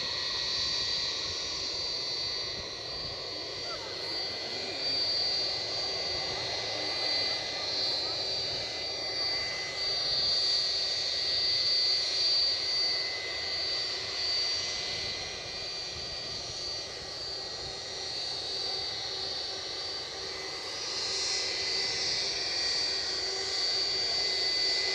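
A United Airlines jet aircraft at Edinburgh airport produces a sustained engine roar with high whining tones, rising and falling gently over a long stretch amid airfield noise.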